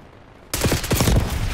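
Gunfire in Call of Duty Black Ops 6: after brief quiet, a loud burst of rapid automatic shots begins and continues densely to the end, several weapons overlapping close by with no talk.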